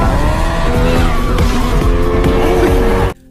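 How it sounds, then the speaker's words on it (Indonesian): Racing cars in an animated race on a circuit, a loud, dense roar of engines with squealing tires and skids, cutting off sharply at the end. "Duanyi dan Wenzhou masih melanjutkan balapan"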